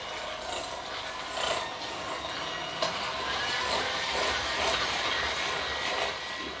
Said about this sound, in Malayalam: എളുപ്പത്തിൽ മിക്സ് ചെയ്തെടുക്കാൻ വേണ്ടി ഞാനൊരു എഗ് ബീറ്ററാണ് ഉപയോഗിക്കുന്നത്.